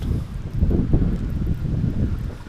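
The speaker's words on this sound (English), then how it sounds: "Wind is too crazy" Strong wind on a lake during bass fishing, loud low buffeting on the microphone that surges and eases throughout.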